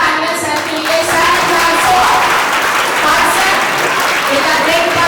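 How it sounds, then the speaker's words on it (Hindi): Sustained applause from a school audience at an Independence Day event in Gorakhpur, steady and dense clapping filling the whole stretch at close range, with a faint voice beneath it. "जोरदार तालियां सर के लिए"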